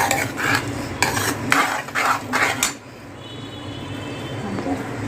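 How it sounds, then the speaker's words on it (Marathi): Veg fried rice being stirred and mixed in a pan, with spoon scrapes and clinks of metal on the pan in quick bursts for the first few seconds, then quieter background under a faint kitchen hum. "आणि आता चांगली मिक्स करून घेऊया."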